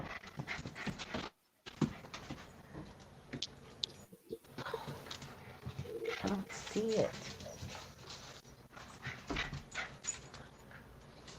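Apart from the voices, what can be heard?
dog panting and whimpering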